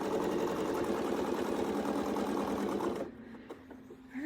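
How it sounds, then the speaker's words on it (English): A sewing machine runs a basting stitch along the edge of a quilt, a steady close rapid chatter for about three seconds before stopping abruptly into near quiet. "We'll do a little baste right here on the edge to give him a test."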